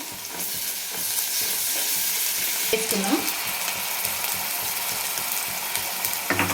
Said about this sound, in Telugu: కొత్తిమీర 2 యాడ్ చేసుకొని బాగా వేగాలి